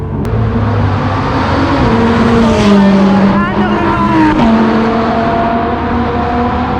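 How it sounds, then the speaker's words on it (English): Several high-revving supercars, including a Lamborghini Huracan Performante and a McLaren, roar past on India's Formula One track, engine pitches climbing and dropping as they shift and pass, loud and continuous. "Beautiful cars, they sound maddening, man."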